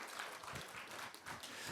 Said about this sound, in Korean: Let's give a big round of applause for our choir.